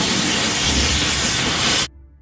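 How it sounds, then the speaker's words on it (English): A loud, steady hiss of cartoon welding on a crack in a yellow barge's hull runs unbroken for nearly two seconds, then cuts off abruptly, leaving only a faint low residue. "Let's weld a crack on the ship."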